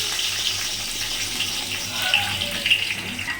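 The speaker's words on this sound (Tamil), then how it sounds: "இப்போ நம்ம வெங்காயத்தை சேர்த்துக்கலாம்" Onions, about 400 grams, hit hot oil in a pan while making homemade chicken biryani, giving a steady, close broadband sizzle and hiss that holds throughout without talk.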